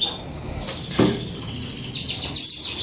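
A male Giboso canary chirps in quick high bursts, fairly close and clear against a faint hiss, with a soft flutter or thump midway.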